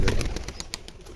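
Rajshahi Giribaz pigeons flap their wings close by in a quick series of sharp bursts, heard alone for about a second.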